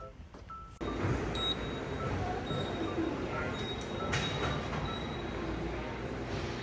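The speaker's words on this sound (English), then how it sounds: "It's my first time ever where the whole metro is empty." Ride aboard a nearly empty metro train in Korea: a steady, moderately loud rolling rumble with faint wheel squeal and a few brief tones, beginning after a short quieter moment.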